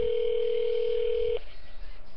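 A telephone dial tone hums loud and steady on the line for over a second before it cuts off during dialing, leaving a low hiss of line noise.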